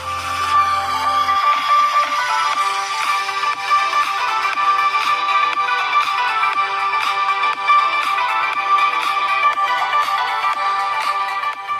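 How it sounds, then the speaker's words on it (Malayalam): Music plays steadily and loud from the loudspeaker of a Lenovo K15 Plus phone during a sound test, a continuous dense tune with no talking. "ഈ ഫോണിൽ വരുന്ന സൗണ്ടിൻ്റെ ക്വാളിറ്റി എത്രമാത്രം ലൗഡാണ് എന്ന് നമുക്കൊന്ന് ടെസ്റ്റ് ചെയ്ത് നോക്കാം."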